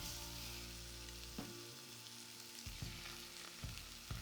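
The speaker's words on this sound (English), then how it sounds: "we will throw few, and you already hear the sizzle" Chicken pieces sizzling in a very hot, uncrowded pan, a continuous loud frying hiss with a few sharper crackles and spatters as pieces settle, no talking.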